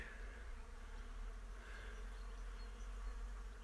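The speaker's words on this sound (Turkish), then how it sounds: "kısmetini arayan bir arı bir çiçekten diğer bir çiçeğe" A bee flies from flower to flower among blossoming cherry trees in an orchard, a faint continuous buzz over a low steady outdoor hum.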